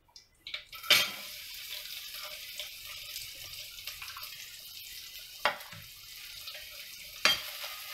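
Onion and garlic frying in hot oil for a mutton gravy, a steady soft sizzle with a few brief clatters of a spoon against the pan, no talking.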